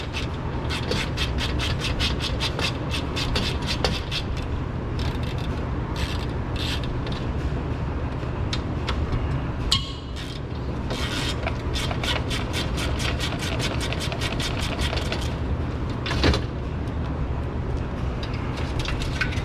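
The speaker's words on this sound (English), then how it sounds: "Break these two 10mm bolts loose." A ratchet loosens 10mm bolts holding the radiator fan on a Honda Accord, giving long runs of quick, close, steady clicks with short breaks between strokes.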